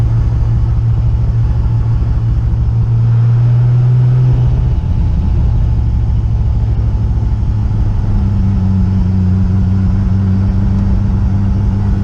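Toyota Supra engine running in flame mode, a loud, steady low rumble close by with a drone that drops in pitch partway through, then settles into a slightly higher hum, no talking.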